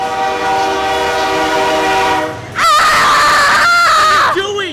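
A passing train sounds its horn, first a long steady chord, then a louder, wavering horn blast close by with rumbling rail noise beneath, fading off at the end.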